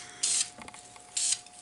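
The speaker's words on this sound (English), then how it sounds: "go ahead and start spraying this." Two short bursts from a spray can or airbrush coat an ExactRail model woodchip railcar, each hiss lasting under a second with a faint click between them, close and alone.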